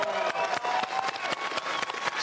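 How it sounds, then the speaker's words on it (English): A live audience at a Q&A with members of INXS applauds together, a dense, steady patter of hand claps with faint cheering tones, sustained and fairly loud throughout. "big round of applause for"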